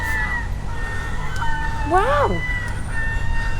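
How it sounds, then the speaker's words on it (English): Large seagulls fighting near a parked camper van, with one harsh rising-and-falling call standing out over steady road and wind rumble, and a brief spoken exclamation. "Attacked by seagulls? They're fighting then, aren't they?"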